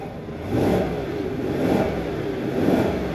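The 5.3L V8 of a 2024 GMC Sierra 1500 Elevation pickup truck revs loudly and up close in three rising surges, each falling back toward idle between blips.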